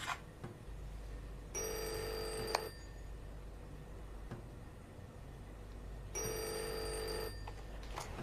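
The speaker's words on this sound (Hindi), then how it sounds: "टेलीफोन" A telephone rings in two separate bursts about five seconds apart, the trilling bell fairly quiet over a steady low hum, with no talking.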